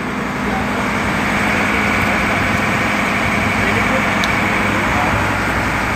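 A boat engine idles with a steady low rumble and hum, continuous and fairly loud throughout, with faint background noise, on a trip to the Global Vipassana Pagoda in Mumbai.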